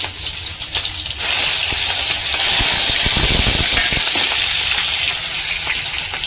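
Green chilies and garlic sizzling in hot oil in a home kitchen while cooking red amaranth greens, a loud, steady, close frying hiss that swells after the first second and holds without talk.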